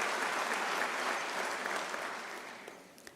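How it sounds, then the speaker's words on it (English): An audience at a university's 2024 academic year closing ceremony gives a round of applause for the students and student leaders: a dense, steady wash of many hands clapping that gradually tapers off toward the end. "Can we give our primary stakeholders, the students and the student leaders, a round of applause?"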